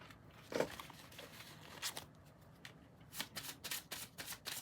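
Synchronicity oracle cards being shuffled by hand, giving soft riffling bursts, one early and a quicker run of repeated riffles near the end, close and fairly quiet, with no talking.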